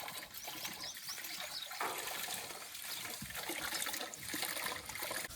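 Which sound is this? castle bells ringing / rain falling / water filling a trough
water filling a trough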